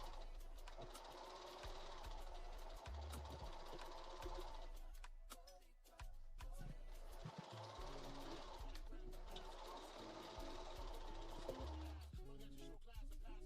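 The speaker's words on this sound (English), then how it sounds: "We're just doing a quick understitch on the pocket in the front." A sewing machine runs a quick understitch along a front pocket on a knit garment. It makes a faint, steady, rapid mechanical chatter in two long runs with a brief pause between them, and no one speaks over it.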